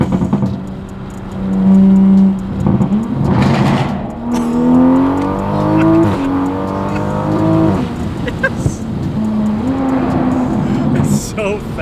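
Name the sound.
B58 Toyota Supra accelerating hard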